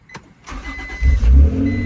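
A previous-generation Honda NSX sports car engine cranks briefly and catches, then settles into a loud, close, rumbling idle.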